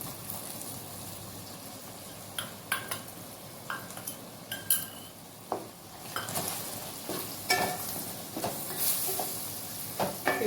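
Mushrooms fry with spice powder in a pan. A soft sizzle runs underneath while a spoon stirs and scrapes repeatedly in uneven strokes, close by and fairly quiet, with no talking.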